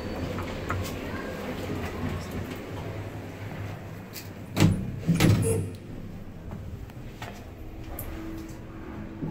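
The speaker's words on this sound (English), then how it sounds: "Doors opening." 1998 Otis 2000 lift doors at Buchanan Galleries shopping mall in Glasgow sliding open with a couple of loud clunks and a rumble midway, over steady mechanical hum and mall background noise.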